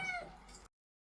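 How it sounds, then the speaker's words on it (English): Several cats meow loudly and close by in a home, a short burst of insistent cries that stops abruptly and then leaves silence. "those cats are making a racket"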